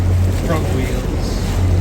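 A Boston duck tour amphibious boat motors across the water, a loud steady engine drone with wind rushing over the microphone, close and continuous.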